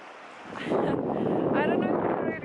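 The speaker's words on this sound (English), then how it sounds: "As the wind is slightly blowing here." Wind blowing along a winter beach, a steady broadband rush buffeting the microphone and swelling slightly midway, with a faint voice briefly mixed in.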